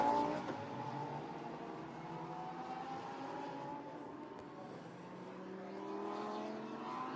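Lamborghini Super Trofeo race cars drive down the pit lane at the Barcelona circuit, several engines humming and whirring at low speed, fairly faint and distant, one note rising slightly toward the end.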